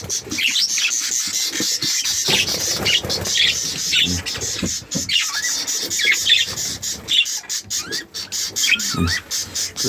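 Busy chirps and squawks from parrots fill the clip, overlapping and continuous, with some muffled talking underneath.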